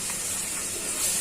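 Onions fry in hot oil in a pan, giving a continuous broadband sizzle with no break for the whole short stretch; no voices.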